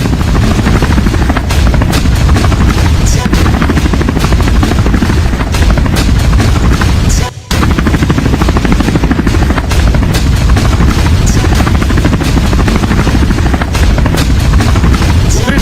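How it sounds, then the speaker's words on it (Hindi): Helicopter arriving at a crowded religious gathering, a loud, continuous rotor thump and engine roar filling the whole stretch, with a momentary dropout midway. "देखिए जरा बाबा का हेलीकॉप्टर जिस वक्त पहुंचा है"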